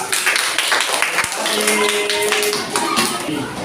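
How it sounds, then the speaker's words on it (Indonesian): Scattered clapping from a small classroom group applauding a student group after its presentation, with talk and a few sharp taps mixed in. "beri tepuk tangan untuk kelompok 4."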